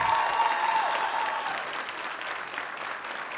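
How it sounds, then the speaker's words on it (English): Audience applause at a scholarship awards celebration honoring scholarship recipients: dense, steady clapping from a large crowd that fills the room and eases slightly toward the end. "Let's give another round of applause for all of our scholarship recipients"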